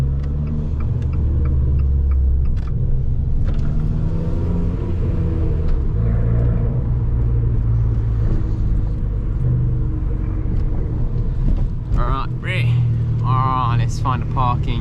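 Abarth 595 engine rumbling steadily from inside the cabin, turbo building, with a deep continuous drone under loud speech and a brief rising whistle near the end.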